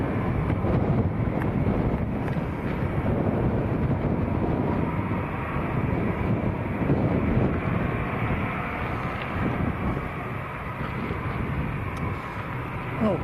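A Volotea airliner departing Lanzarote airport, bound for Nantes, gives off a continuous, loud engine roar mixed with gusty wind buffeting the microphone. The roar holds steady throughout with no break.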